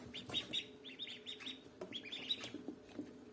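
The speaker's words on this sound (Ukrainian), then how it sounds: "Такі малючки, каченятка." Many high, thin peeps from a cluster of ducklings, chirping rapidly and overlapping in a steady chatter, close by with a faint background hum.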